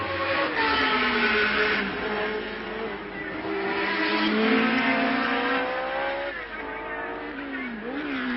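A 1970 Lotus 72 Formula 1 car races at the French Grand Prix. Its engine gives a continuous high, rising and falling scream as it passes, with rising pitch on acceleration, heard over crowd and track ambience.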